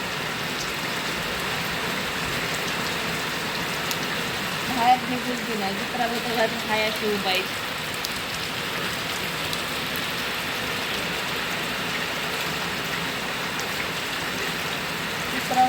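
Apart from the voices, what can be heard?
rain falling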